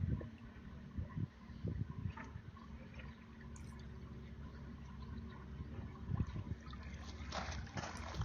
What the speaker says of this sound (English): fancy German vortex filter which takes the rainwater from all the gutters